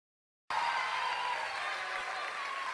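An audience applauds at a concert at Teatro Providencia, a dense, even wash of clapping that starts abruptly and continues steadily, fairly distant.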